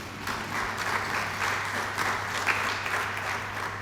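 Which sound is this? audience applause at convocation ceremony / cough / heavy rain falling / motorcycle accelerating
audience applause at convocation ceremony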